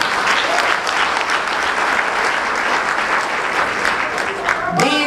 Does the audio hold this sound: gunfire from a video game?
no